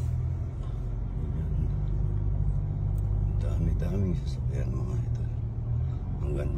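Heavy flow of many cars and other vehicles on a busy road on a Saturday, giving a steady loud engine rumble throughout with a vehicle passing close in the middle, while someone talks over it.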